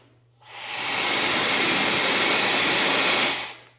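A Brio Vento hair dryer switches on and blows a loud, steady rush of air for a few seconds before winding down.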